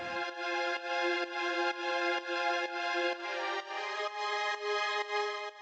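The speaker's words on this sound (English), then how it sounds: "Then we have some strings to create ambience in the stereo space." Sustained string chords swell and pulse gently in a repeating pattern, smooth and full, playing alone without any talking.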